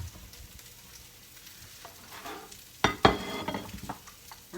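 Tuna patties frying in a pan make a soft, low sizzle that swells into louder crackling bursts partway through, with a few scrapes and clatters, no voices.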